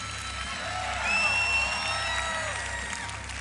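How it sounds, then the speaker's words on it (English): A conference audience applauds and cheers at the close of an evening event, a steady wash of clapping with scattered whoops rising slightly in the middle, while a voice talks over it. "Give our speakers a hand. Cheer for yourselves because you're here."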